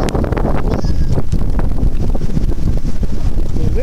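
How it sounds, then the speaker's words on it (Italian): Strong wind buffets the microphone outdoors near a small bridge over a road, a steady loud rumble filling the whole stretch without pause. "Il vento qua, eh?"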